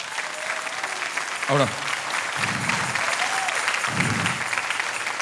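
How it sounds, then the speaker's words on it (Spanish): A church congregation at a Spanish-language service applauds in a steady, sustained wash of hand claps, with a voice briefly speaking over it. "denle un aplauso a Jesús"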